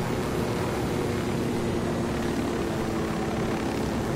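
Constant loud rotor and engine drone of a helicopter in flight in the video game Ghost Recon: Wildlands, steady and close, with no breaks.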